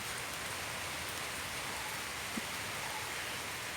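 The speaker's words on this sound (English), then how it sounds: "Rain started again." Steady rain falls in a garden with a temporary puddle and trees nearby, a dense even hiss with no talking.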